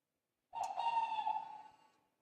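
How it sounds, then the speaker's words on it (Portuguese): A single owl hoot sounds once, a faint, drawn-out tonal call lasting over a second before fading into silence. "Isso é uma coruja."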